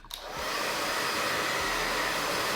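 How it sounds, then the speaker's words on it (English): A blow dryer runs steadily on the lace of a curly half-braided wig, a loud constant whoosh that starts up after a brief click. No one talks. "I'm gonna take my blow dryer and just dry it."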